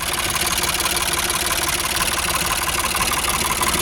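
An old tractor engine runs steadily at idle, a loud, close, continuous mechanical chug with a fast, even knocking beat throughout.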